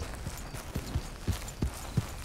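Horse hooves clip-clop at a steady walking pace in Red Dead Redemption 2, six or seven distinct thuds at close range with a faint background murmur and no talk.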